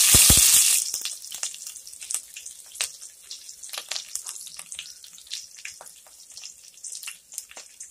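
Cumin, mustard seeds, slit green chilies and curry leaves sizzle and crackle in hot oil in a pan, with a loud burst at the start settling into steady close spattering and pops, no talking.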